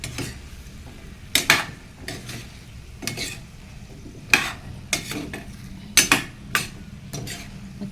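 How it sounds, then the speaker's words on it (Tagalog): Ground meat and vegetables being sautéed in a pan, with a utensil scraping and clattering against the pan in several sharp bursts over a low, steady sizzle. "Ayan guys, gisa-gisa muna natin para masarap."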